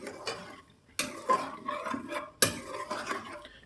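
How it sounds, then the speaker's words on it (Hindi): Dal being stirred and fried in a pan for dhaba-style daal mash, with scraping spoon strokes and clinks against the pan in uneven bursts, a faint sizzle underneath, close and moderately loud, no talk. "दाल को इसके साथ हमने फ्राई कर लेना है"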